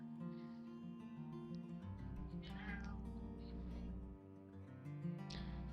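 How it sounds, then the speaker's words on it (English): A cat meows several times, close and fairly loud, over background music from a game, without speech. "Hush, Cat, I can hear you."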